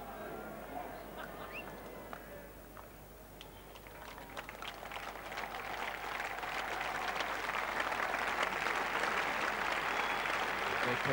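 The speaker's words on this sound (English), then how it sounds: "appreciation from all over for the half-century for the Pakistan captain" A cricket crowd at The Oval in 1987, England versus Pakistan in a Test match, applauds the Pakistan captain Javed Miandad's half-century. The clapping is broad and steady and swells louder over its course.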